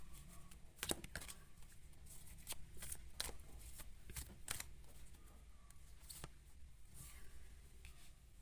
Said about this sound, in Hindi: जब मैं शफल कर रही थी, देखा होगा आपने, तब भी ये कार्ड निकल के आया था बीच में।